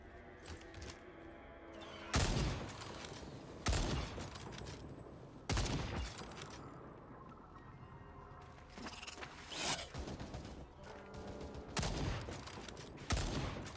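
Sniper rifle shots in the video game Second Extinction, around eight loud sharp blasts fired at spaced intervals, each followed by a brief ringing tail over quieter background noise.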